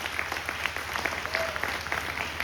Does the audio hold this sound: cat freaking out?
no